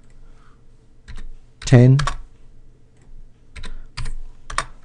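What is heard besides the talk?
typing numbers on a computer keyboard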